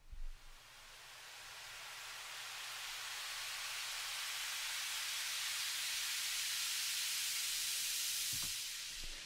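A synthesized white noise riser made in Sytrus swells gradually in volume and brightness over several seconds, then fades out, with a couple of soft thumps at the edges.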